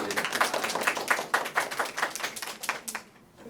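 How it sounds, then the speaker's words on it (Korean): An audience at a Korean classroom talk show claps in a quick, steady burst of many hands, moderately close, then the clapping thins out and fades near the end. "박수 줘야 돼."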